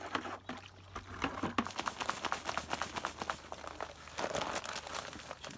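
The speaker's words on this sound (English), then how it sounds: "I'm going to stir that around a little bit first before adding more" A tool stirs wet tile mortar mixed with water in a bucket, giving close, irregular scraping and squelching strokes that continue steadily at a low level.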